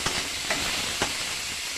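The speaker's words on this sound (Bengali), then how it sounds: "টমেটোটাও সেই একইভাবে ভেজে নেব ভালোভাবে" Chopped tomatoes frying in a pan with shrimp for a Bengali potol chingri dish, giving a steady close sizzle with a few soft stirring scrapes over about two seconds and no voices.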